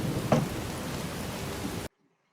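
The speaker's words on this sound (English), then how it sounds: "Now it's raining." Steady rain falls in a TV drama scene, a dense broadband hiss of drops that runs for almost two seconds with a brief louder patter near the start, then cuts off to silence.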